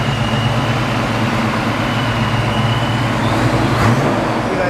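Foxbody Mustang V8 with a Holley fuel system running steadily, a loud continuous low engine drone that rises slightly near the end as the revs come up, with no talk over it.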